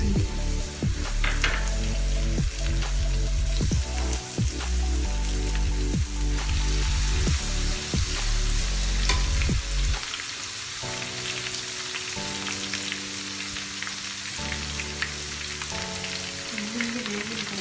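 Garlic frying in hot oil with cumin and mustard seeds for a tomato chutney, a loud dense sizzle with crackling pops that drops to a softer, steadier fry about halfway through.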